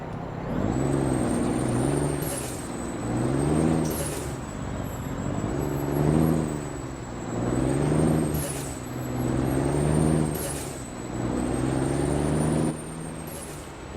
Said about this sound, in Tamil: வண்டி இழுக்க கஷ்டப்படுதுங்க.